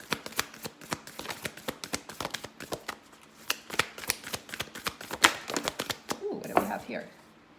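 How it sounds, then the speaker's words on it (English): A deck of cards is shuffled by hand in quick, crisp riffling bursts, a rapid series of sharp flicks and taps close by. "So let's get one more card from this deck for you."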